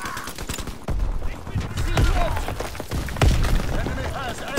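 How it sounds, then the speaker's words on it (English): Shotgun blasts in a Call of Duty WWII multiplayer match, several heavy booming shots at irregular intervals amid other gunfire and battlefield clatter, with a voice talking over the action. "It's a shotgun."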